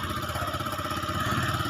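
A motorcycle engine runs steadily close by during a ride, with a mid-pitched chugging drone and clatter holding even throughout, no voices over it.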